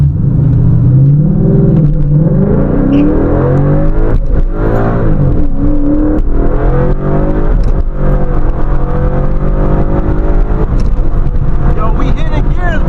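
Mustang with an MT82 manual gearbox launching hard from a standstill in a street race, engine revving up loudly through several gear shifts, close and strong, with voices talking over it.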